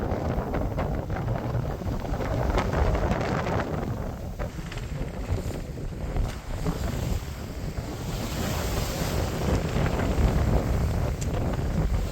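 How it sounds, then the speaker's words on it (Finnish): Strong gusting wind roars across a sailboat arriving at a Canary Islands harbour, with waves and surf washing around the hull in a loud, continuous rush that buffets the microphone throughout. "Satamaan saapuessa tuuli nousi oikein kunnolla."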